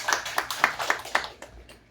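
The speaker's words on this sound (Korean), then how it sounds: "우리 박수 한번 칠까요?" Congregation clapping during a Sunday church service, a brief run of clear rhythmic claps at moderate distance that fades out after about a second and a half.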